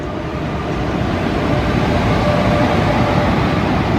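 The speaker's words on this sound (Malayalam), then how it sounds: "കണ്ണൂർ എത്തേണ്ട ട്രെയിൻ 16305 പോയിരിക്കുകയാണ്" Intercity Express 16305 passes through Vadakara station, a loud, unbroken broadband roar of rolling wheels and carriages that holds steady for a few seconds with no voices.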